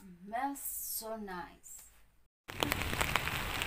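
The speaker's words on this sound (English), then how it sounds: "Rain, rain, rain, and more rain, guys." Rain falling on a rainy day in Ukambani: a steady hiss of rainfall with scattered droplet ticks that comes in after a woman's short spoken remark and continues alone to the end.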